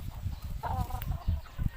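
A hen clucks softly a few times amid low background shuffling, close by and fairly quiet.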